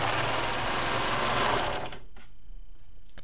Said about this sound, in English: I'm going to go ahead and finish my raw edge right now with my serger.